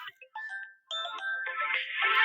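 A phone ringtone plays nearby in a rural home, a bright electronic melody of short tones that repeats and grows denser toward the end, with no talk over it.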